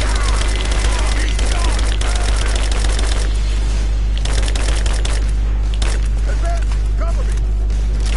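Bursts of gunfire in Rise of the Tomb Raider crackle steadily through the scene, set back behind a voice talking over them for most of the stretch.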